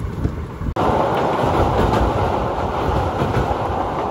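A Madurai–Kacheguda express train rushes past close by with a loud, steady roar and rhythmic clickety-clack of wheels over rail joints, after a brief sharp cutoff near the start.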